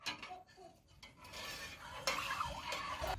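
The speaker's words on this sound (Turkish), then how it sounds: "Bir su bardağı şekerimizi ekledikten sonra güzelce tenceremizi karıştırıyoruz." Sugar is stirred into a grape molasses mixture in a pot for homemade walnut sucuk, a close, steady scraping and swishing of a utensil against the pot with light clinks, with no talking.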